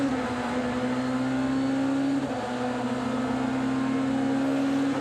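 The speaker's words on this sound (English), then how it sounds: "Gives you a real sensation of the speed of these extraordinary DTM cars." DTM race cars at speed during a free practice session at the Nürburgring, a steady loud engine drone holding one pitch for the whole stretch with a brief dip midway, no voices.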